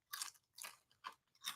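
Four crisp crunches from biting and chewing barbecue-flavoured protein chips, close and fairly quiet, evenly spaced with short silences between and no talking.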